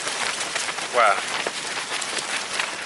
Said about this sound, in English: It's raining, 25 mph winds, southwesterly.